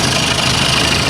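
An old outboard boat engine idles steadily, a dense, constant mechanical drone with vibration, close and loud with no pauses.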